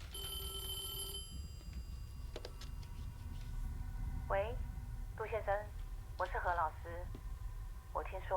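A telephone in the horror game Devotion rings in a series of four warbling, trilling bursts, fairly loud and evenly spaced, following some brief electronic tones over a low background hum.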